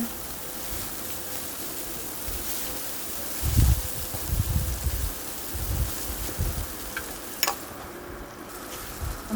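Potatoes fry in oil with turmeric and salt, a continuous soft sizzle running under several low thumps and shuffling stirs, with one sharp click near the end.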